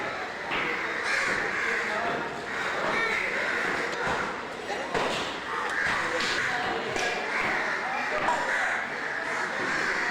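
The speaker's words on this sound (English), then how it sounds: "Dogs and crows were everywhere." Crows caw repeatedly at a busy Kolkata meat market, their harsh calls scattered over a steady bustling crowd din, fairly close and moderately loud throughout.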